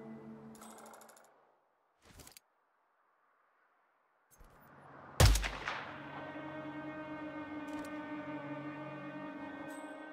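A single sniper rifle shot in the Hitman 2 video game: one loud, sharp crack with a deep boom, then a long ringing tail that hangs on. Fainter game sounds come before it.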